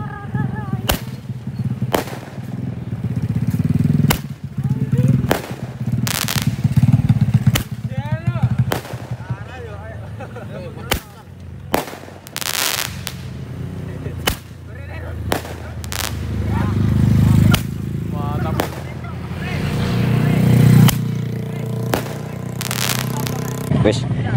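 A large 1.8-size Roman candle firework fires a long series of sharp, loud booming shots at irregular intervals outdoors, with people talking throughout.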